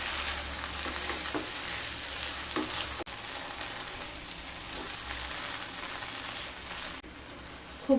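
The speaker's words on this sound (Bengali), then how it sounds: "ডাল দিয়ে খুব ভালোভাবে মিশিয়ে নেব।" Boiled moong dal is stirred into frying spices for a mugdal chhechki, giving a steady, rain-like hiss of sizzling oil with soft stirring under it, close and even, then a short knock near the end.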